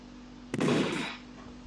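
A single sharp video game gunshot in Roblox Murder Mystery 2 bursts out and decays into a short rumbling tail over a steady low electronic hum, loud and close.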